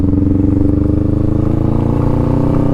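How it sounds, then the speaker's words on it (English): A motorcycle engine drones steadily and close while the bike rolls along under way between gear shifts, a loud, even throbbing hum with no voices. "Listen to the noise of the bike."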